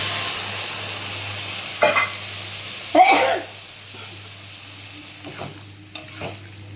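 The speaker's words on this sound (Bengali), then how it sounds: "এখন গরম জল করে একটা পাত্রে ঢেলে রেখেছিলাম, কিছুটা দিয়ে দিলাম।" Hot water poured into a sizzling vegetarian papaya curry after frying in ghee, giving a couple of brief louder splashing bursts over a steady low sizzle, followed by faint stirring.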